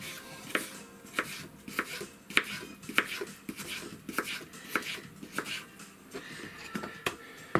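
Kitchen knife chopping food, likely garlic, on a board while preparing a one-pan stew, a quick irregular series of crisp, close taps with short pauses between strokes.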